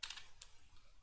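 Brief keystrokes on a computer keyboard, a couple of quick soft clicks near the start and another around the middle, faint and close, with no voices.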